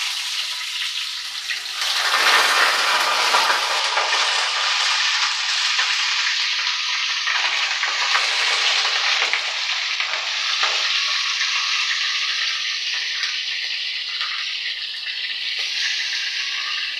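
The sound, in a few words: hilsa fish frying in oil in a kadai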